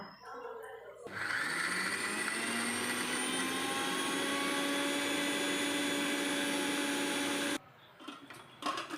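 A kitchen mixer grinder whirs loudly and steadily for several seconds, crushing coconut, turmeric, cumin, garlic, shallot and green chilli for a banana flower thoran, then stops abruptly with brief clatter before and after.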